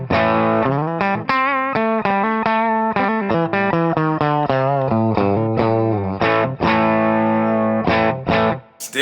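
A Relish Mary One electric guitar on another toggle-switched pickup position plays distorted riffs and chords continuously, loud and close with no voices.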